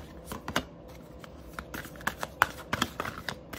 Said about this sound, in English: I'm gonna shuffle these for wisdom from the forest.